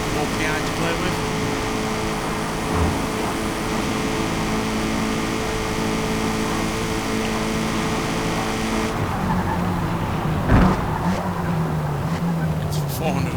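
In Forza Motorsport, an exotic car of around 400 horsepower drives at high speed, its engine droning steadily with faint tyre noise, while a voice talks over it.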